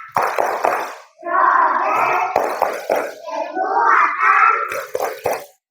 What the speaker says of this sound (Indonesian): Kita tepuk profil Pancasila satu kali.